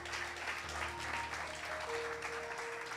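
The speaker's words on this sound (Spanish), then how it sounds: "Hoy denle un aplauso al Señor." A church congregation claps steadily and continuously during a worship service, a dense wash of applause filling the whole stretch with a few faint tones held underneath.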